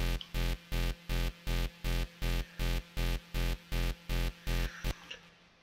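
Synth bassline layered with a harmony booster in a fast, nearly happy hardcore tempo, pumping in regular heavy pulses with strong low end for about five seconds before cutting off, with no voices.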